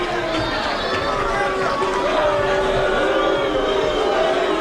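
A crowd at a kickboxing event at Casino San Pablo keeps up a loud, steady roar of cheering and chatter throughout.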